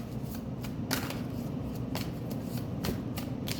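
Tarot cards shuffled by hand, a run of crisp riffling bursts and soft slaps repeating every half second or so, close and quiet with no talk.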